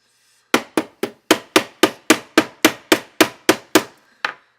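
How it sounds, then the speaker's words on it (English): A punch struck with the back of a screwdriver to drive pins out of a Systema magazine, about fourteen sharp metallic taps at an even, fairly quick rhythm, close and clear with no talk. "I'll get my punch and just beat it out the back of the screwdriver here."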